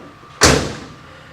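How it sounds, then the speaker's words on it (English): A single solid thump comes as the door of a Chevrolet El Camino being readied for paint is shut, heard close and loud with a short fading ring afterward. "That sounds like a door shut to me."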